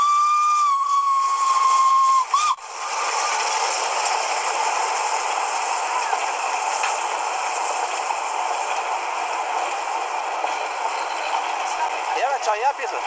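A steam locomotive on the Christmas museum train in the Steyr valley gives a loud, sustained whistle as it pulls into Unterhimmel station, then a brief pause before continuous heavy hissing steam and mechanical noise carry on for the rest.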